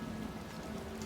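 Steady rain hisses in the Warhammer 40,000: Rogue Trader video game, a dense, even wash of falling water with no pauses.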